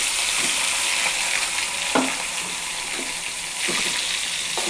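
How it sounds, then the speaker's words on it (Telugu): Tempering sizzles steadily in a hot pan before boiled cowpeas go in. A loud, continuous frying hiss fills the whole stretch, broken by a few soft scrapes of stirring. "ఇవి మంచి కలర్ వచ్చే వరకు బాగా వేగనివ్వండి"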